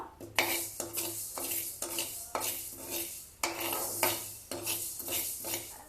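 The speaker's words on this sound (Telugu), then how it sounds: "ఒక చెంచా మెంతులు అలాగే రెండు చెంచాల ఆవాలు వేసుకొని ద్వారగా వేయించుకుందాం" Fenugreek and mustard seeds dry roast in a pan, stirred with repeated rhythmic scraping strokes that rattle the seeds against the metal, close and fairly quiet.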